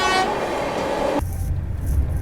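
The Howrah Rajdhani Express runs at speed past the Magadh Express at Tundla Junction, giving a loud rushing rumble with a brief horn at the start and then a lower, steady roar as it passes.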